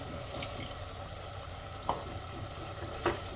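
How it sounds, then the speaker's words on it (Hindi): Tomatoes and ridge gourd sizzle and fry steadily in a pan, a soft continuous crackle with a couple of faint clicks of a utensil. "अब इस टमाटर को भूनने देते हैं थोड़ी देर।"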